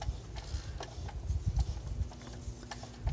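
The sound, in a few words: hand-turning lathe chuck to feed a tap into workpiece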